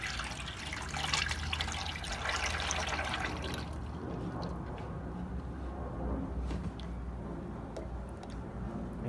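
Cooking oil poured into an outdoor fish fryer in a patio gives a soft, steady liquid trickle and splash. It is faint and continuous, strongest in the first few seconds, then settles to a quieter pour.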